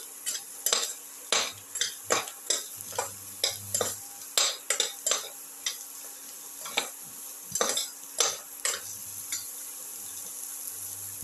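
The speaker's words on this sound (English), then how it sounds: "Thoroughly saute mix." A ginger chicken and tomato mixture is sautéed in a pan, with a spoon scraping and clacking against the metal in a steady stirring rhythm over a soft sizzle, close and clear with no talking.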